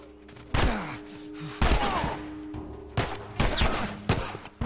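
Enemy gunfire in The Last of Us Part 2 comes as four or five loud, close bursts of shots separated by short pauses, with faint game ambience between them.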